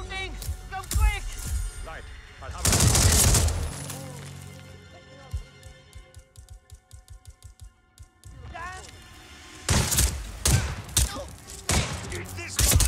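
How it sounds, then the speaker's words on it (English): Gunfire in Hitman 3 on Ambrose Island: loud bursts of shots crack out near the start and again toward the end, with quieter stretches of speech and game noise in between. "They're shooting! Come quick!"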